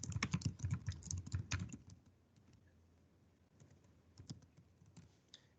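Someone typing a file name on a computer keyboard, a quick close burst of key clicks, then a pause, then a few scattered keystrokes.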